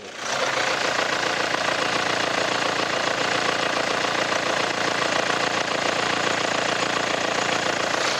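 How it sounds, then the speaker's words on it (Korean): A Kia Sorento SUV's diesel engine idles steadily and loudly up close with the hood open, a continuous rough clattering hum that holds unchanged throughout. "일단 엔진 소리부터 한번 들어보도록 하겠습니다"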